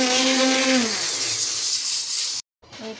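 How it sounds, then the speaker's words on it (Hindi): Hand blender whirring in a sweet dish with cardamom powder, a loud steady motor whine that fades and cuts out abruptly near the end. "और फिर हम इसमें थोड़ा सा हैंड ब्लेंडर यूज़ करेंगे"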